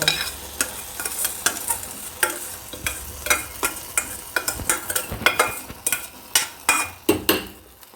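Ghee-roasted vermicelli being stirred into a pan for coconut milk payasam, a steady run of close scraping and clinking spoon strokes over a soft sizzle, with no talking.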